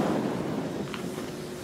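Wind blows across a black-run ski slope, a loud, continuous rumbling rush that buffets the microphone with steady low gusts.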